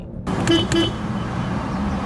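A low-mileage Smart ForFour with about 30,000 km on it revs its engine under acceleration, a steady, lively drone with a couple of brief higher tones near the start and no talking.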